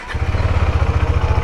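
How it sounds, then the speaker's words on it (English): A motorcycle's electric self-start brings the engine to life, settling into a loud, steady, throbbing idle heard close up and alone. "The bike is now turned on. I'm just starting it with the self start."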